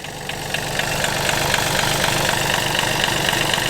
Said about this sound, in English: So the engine seems to run pretty clean.